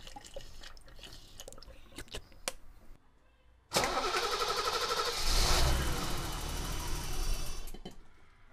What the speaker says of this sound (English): Yep, cold start.